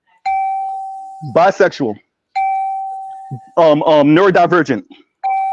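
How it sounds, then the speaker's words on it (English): A bell dings twice with a sustained ringing tone during an open session, each ding followed by a person speaking, then a third ding at the end. "Let me get the bell up here."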